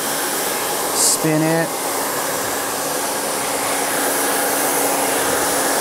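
A hair dryer blows steadily and loudly throughout while hair is being styled, a constant close airy roar, with a brief spoken phrase near the start over it.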